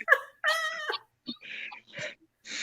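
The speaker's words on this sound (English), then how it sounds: "Is Lydia over there killing the cat" A cat meowing indoors: a few short, voiced cries, loud and close, followed by scratchy, hissy bursts that could be the cat or nearby handling, with no talk over them.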